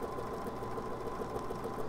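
A sewing machine runs a serpentine quilting stitch with a continuous, fairly quiet mechanical whir and rapid needle rhythm, steady throughout the short stretch with no talking.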